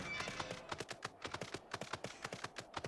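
Horse hooves from a mount in the video game Final Fantasy XIV, a quick rhythmic clip-clop of crisp, close hoofbeats at a steady trotting pace, clear and alone without talk.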